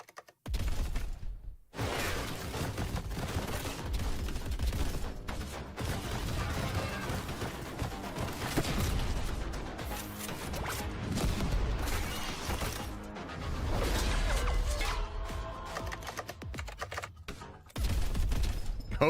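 Heavy bolt-gun fire from a video game rattles in dense, continuous bursts with crashes and impacts. The sound is loud and sustained, with only a few short gaps, and there is no talk over it.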